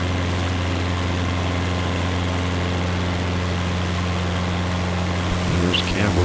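A small airplane's engine drones steadily and loudly through a night flight over Campbell River toward the ocean, a constant low hum with a faint change in the final moment.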